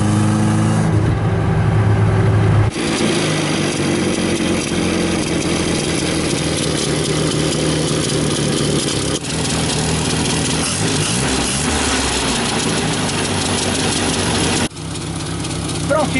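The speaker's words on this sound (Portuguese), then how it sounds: "agora a gente tá com uma marcha lenta bastante estável" A car engine with the rear exhaust section missing idles steadily after an idle adjustment, a loud, raw, continuous rumble close by with a brief change near the start and someone speaking over it.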